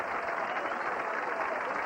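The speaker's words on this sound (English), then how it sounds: "They're applauding. They're standing here." Crowd at a 1985 PBA Austin Open bowling event applauding while standing, a steady wash of clapping that fills the whole stretch at moderate volume with no speech over it.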